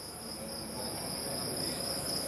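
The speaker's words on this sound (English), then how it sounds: "There's more noise from the crickets at the moment." Crickets chirp in a steady, continuous high-pitched trill throughout, forming a constant outdoor background at a lawn bowls final of the 2010 Commonwealth Games, with no talking.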